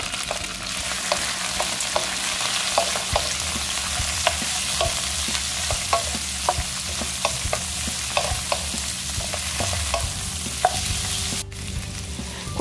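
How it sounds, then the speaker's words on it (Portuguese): Garlic browned in a pan for Thai asparagus with shrimp keeps frying in a long, steady sizzle, with light regular clicks of stirring throughout and a brief dip near the end, and no talk. "Agora, alho torna um pouco marronzinho assim. Você pode colocar camarão."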